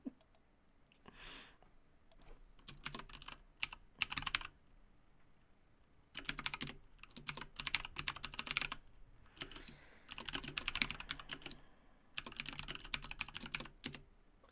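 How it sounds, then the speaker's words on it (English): Bursts of rapid keyboard typing, clicky keystrokes in quick runs separated by short pauses, close and fairly quiet. "You can hear me typing."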